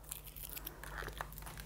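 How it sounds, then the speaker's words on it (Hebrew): Sellotape is peeled and crinkled off the clear plastic cutting plates of a Big Shot die-cutting machine, a close, quiet tearing rustle with a couple of sharper rips. "גם אותם אנחנו מנתקים, הן דבוקות עם דבק סלוטייפ"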